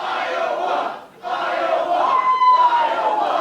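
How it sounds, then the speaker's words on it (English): Wrestling crowd at an indoor 3XW pro wrestling show chanting in loud, rhythmic bursts, two sustained chant phrases separated by a brief dip, filling the room with massed voices. "Crowd chanting Iowa at Showtime Bradley Charles."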